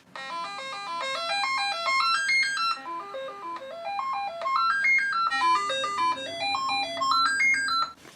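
A Commodore 64 SID chip plays its dead test melody, a bright, buzzy chiptune of quick stepping arpeggios that rise and fall. It repeats in loud, steady phrases for about eight seconds with no talk.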